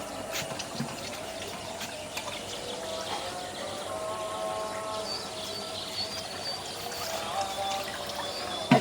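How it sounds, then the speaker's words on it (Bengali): Water is poured into a pan of curry cooking in mustard oil, a low continuous splashing rush that stays fairly quiet and even throughout. "এখন জলের পানি দিয়ে দিই।"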